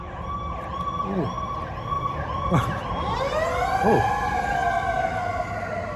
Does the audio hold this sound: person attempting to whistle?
no